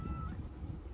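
A small house cat gives a brief meow at close range over a low background rumble, with no talk.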